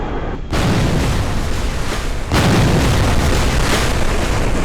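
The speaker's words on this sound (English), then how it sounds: "It's time to do the kaboom." An explosion in the Kerbal Space Program video game produces a loud, dense roar. It bursts in abruptly after a brief hush, then surges a second time partway through and keeps rumbling steadily to the end.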